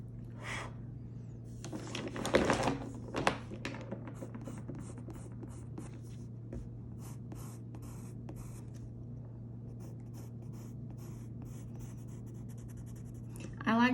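Soft, continuous scratchy strokes of a colored pencil shading on paper, quiet and close, with a few louder rubs early on.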